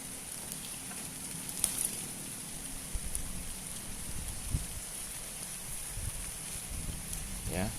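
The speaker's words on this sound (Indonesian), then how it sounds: "sayang ini hujan ya" Rain falls steadily on a vegetable garden during harvest, a constant soft hiss with occasional drips and small knocks, continuous and fairly faint throughout.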